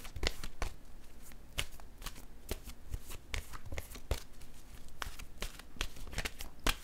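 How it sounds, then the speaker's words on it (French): Oracle cards are shuffled by hand at close range, producing a continuous run of soft riffling flutters and crisp snapping taps in an uneven rhythm. No one speaks. "Je vais piger une carte."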